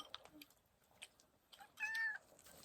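A house cat gives a soft, brief meow at a distance, faint against a quiet indoor room with a few scattered small noises.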